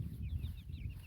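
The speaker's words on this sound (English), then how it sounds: "Asher is playing with the chickens, trying to catch them." Chickens clucking and fussing on a farm while a young boy chases them, short rising squawks repeating over a steady low rumble of movement close by.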